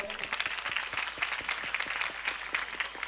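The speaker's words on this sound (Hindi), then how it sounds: "जोरदार तालियां बजाएं।" An audience at a talk event claps in steady applause, a sustained patter of many hands with some sharper individual claps, with speech mixed in.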